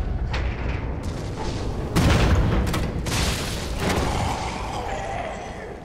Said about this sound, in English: let me get the explosive rounds out